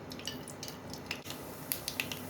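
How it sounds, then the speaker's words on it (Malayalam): Half a teaspoon of mustard seeds crackle in hot coconut oil in a pan, scattered sharp pops and snaps over a soft background hiss, with no voices. "കടുക് പൊട്ടി."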